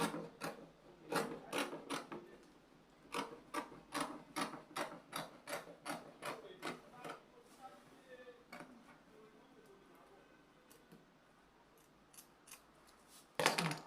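Scissors cut out fabric for an overlapped neckline in a quiet room, a run of regular crisp snips about every half second, then softer scattered handling sounds and one last louder snip.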